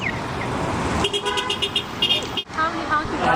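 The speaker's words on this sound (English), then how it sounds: "I counted all the honks we got from holding up signs" Passing car horns honking in Vancouver traffic at a roadside sign-holding event: several short toots and honks rise over steady road and engine noise, with people talking nearby.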